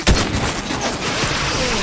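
Gunfire in the Fortnite video game, a loud burst of shots at the start followed by continuous rapid crackling fire through the rest of the short stretch.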